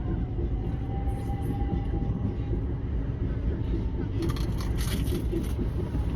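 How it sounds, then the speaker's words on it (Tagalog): A train rumbles past nearby near Stonehenge with a heavy, continuous roar, and metallic screeches and clatter rise toward the end. "Ayan na guys yung tren"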